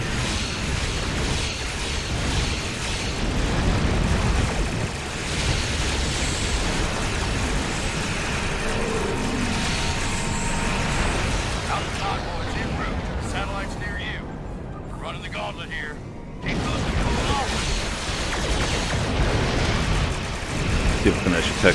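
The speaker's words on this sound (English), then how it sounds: "Four cannons for the win." Starship cannons firing in Star Trek Online, a steady stream of loud mechanical bursts and pops running throughout, with someone talking over the weapon fire.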